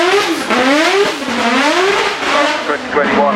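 A car at the Goodwood Festival of Speed 2024 hill climb revs hard with rising and falling engine pitch as it shifts, loud and close, while a commentator talks over it.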